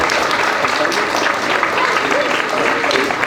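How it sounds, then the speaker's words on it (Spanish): Strong audience applause at a migrant festival, a dense, loud, continuous burst of clapping filling a few seconds, with some crowd voices mixed in. "un aplauso fuerte para este instituto"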